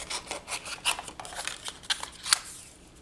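Scissors snip through paper for a handmade card, a close run of short crisp cuts and rustling strokes with a few sharp clicks of the blades.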